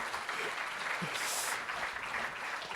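Applause from an audience at a French entrepreneurs' gathering in Courbevoie, a steady even patter of many hands clapping that fills the room at moderate volume without a break.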